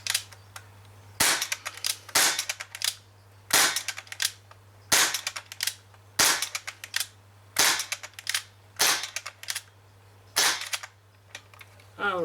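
Single sharp shots from an Umarex HK MP5K CO2 airsoft gun, running low on gas, fire about once a second, nine or ten loud cracks over a steady low hum.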